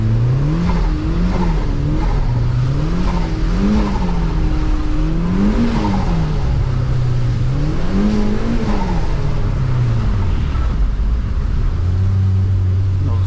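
A turbocharged Mazda Miata with its top down is driven hard on snowy roads: the engine revs up and down in repeated rising sweeps through the gears, loud and close, with a steady lower drone near the end.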